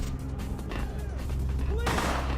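Video game gunfire crackles through a dense, busy mix of noise, with a louder, brighter burst near the end.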